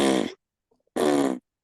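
Two sputtering lip buzzes imitating an elk cow's estrus call, each about a third of a second, separated by a short silence, loud and close with no other sound.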